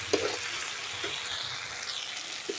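Spice paste for egg curry frying over low heat in a pan with no water added, a steady soft sizzle running throughout with a few faint stirring clinks.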